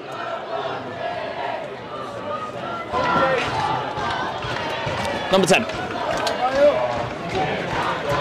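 Crowd behind the goal at a football cup final between Farnham Town and Balham, a rising roar of shouting and chanting that swells midway, with a commentator's voice briefly heard over it.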